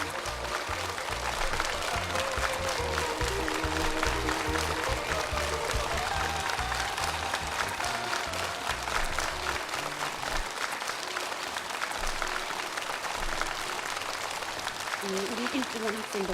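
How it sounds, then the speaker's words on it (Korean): A large audience applauds steadily and at length for six primary school students at the close of a national quiz contest, with rhythmic clapping that fills the space throughout. "우리 6명의 학생 동무들에게 열렬한 축하의 박수를 보내줍시다."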